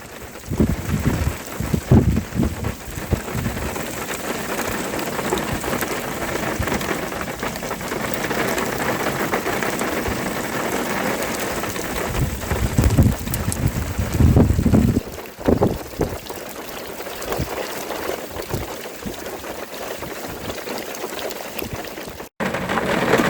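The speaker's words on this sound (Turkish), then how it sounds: "Dolu yağıyor gördüğünüz gibi. Dolu atıştırmaya başladı." Dense patter of hailstones striking surfaces on a high mountain plateau around 2000 m, a steady loud clatter with gusts of wind noise and occasional sharper impacts.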